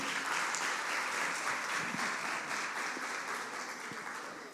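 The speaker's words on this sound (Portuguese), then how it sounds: "Vamos recebê-lo aplaudindo o Senhor." A church congregation at a missions service applauds to welcome the preacher, a full, sustained round of clapping from many people that tapers slightly toward the end.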